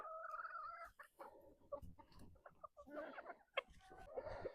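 Hens cluck and murmur close by in a steady, busy stream of short calls, fairly faint overall, with no talking.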